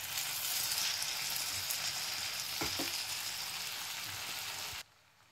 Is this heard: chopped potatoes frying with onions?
yes